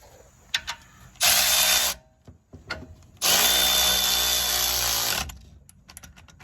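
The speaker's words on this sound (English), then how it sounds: "it's even harder when you got your ratchet set up backwards" During a car rear differential rebuild, a ratchet wrench turns in two loud, sustained whirring bursts, the second one longer, separated by scattered clicks and metallic taps.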